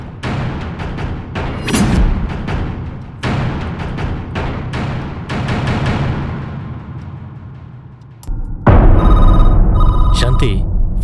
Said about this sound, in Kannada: ಫೋನು ರಿಂಗ್ ಆಗ್ತಾ ಇದೆ ನೋಡು